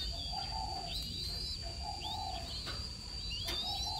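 Turtle doves repeat soft, low cooing phrases at a steady rhythm, close by, with thin chirps and a faint high whine in the background; no one speaks.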